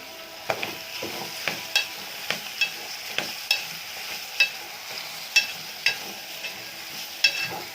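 Meal maker (soya chunks), tomato, curry leaves and green chilli frying in oil with a low sizzle, under regular sharp scrapes and taps of a spoon stirring the pan.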